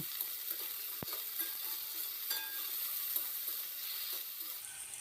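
Green peas frying in hot oil for bathua greens, a steady close sizzle and crackle that fills the whole stretch, with a single sharp pop near the start and no talk.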